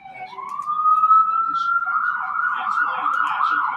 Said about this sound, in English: You can hear the sirens in the background now.